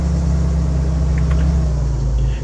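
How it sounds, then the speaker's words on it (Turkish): Car engine in the City Car Driving game, a steady low rumble that swells slightly as the throttle is opened, close and loud with no talk. "Şimdi buradan biraz gazı kökleyelim."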